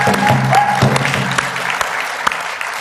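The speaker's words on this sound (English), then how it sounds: "If we could give her a big round of applause." Audience at a Circle of Honor ceremony claps for a library event coordinator, a burst of close, steady applause that tapers slightly, with a few individual claps standing out near the end.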